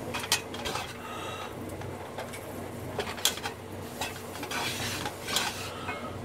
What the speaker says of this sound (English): keep stirring that stuff